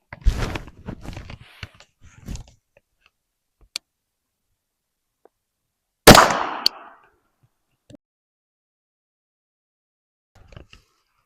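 An Armalite AR pistol fires a single shot of Federal HST 147gr 9mm into ballistic gel, one sharp, loud report standing alone after some earlier handling clicks, with faint clicks following.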